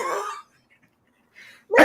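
A man coughs in short, harsh bursts during an interview, a loud throaty cough at the start and another at the end with a brief quiet gap between.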